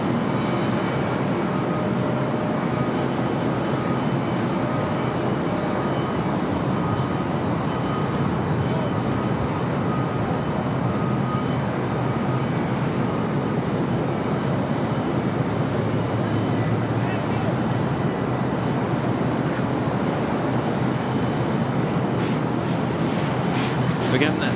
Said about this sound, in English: So again, that Delta A350 heading to Atlanta.